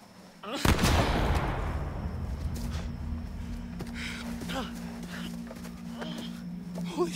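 A single loud gunshot in the video game The Quarry cracks out near the start and rings off in a long decaying echo, followed by a low hum and scattered voices and movement.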